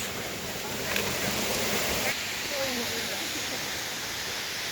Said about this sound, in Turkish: Burası alt tarafı. Yukarıda bir şelale daha var.